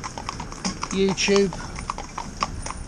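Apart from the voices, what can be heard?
horse hooves clip-clopping while driving horses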